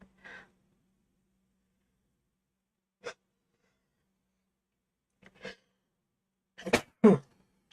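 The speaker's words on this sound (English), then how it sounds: "I didn't want to sneeze" A few short, sharp bursts break the quiet, ending in a loud sneeze followed by a quick second burst.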